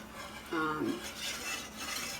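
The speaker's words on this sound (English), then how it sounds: "for a few seconds, I'm going to be doing the double stir" Milk and roux for a cheese soufflé are stirred in a pot, with a spoon scraping and clinking against the metal in a brief burst, then softer stirring that continues steadily.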